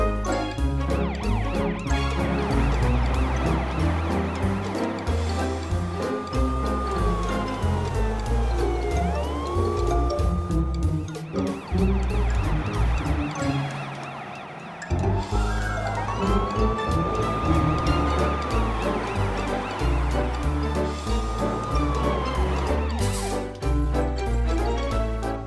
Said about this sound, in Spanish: Ahora Morphle puede ver lo que un verdadero camión de bomberos puede hacer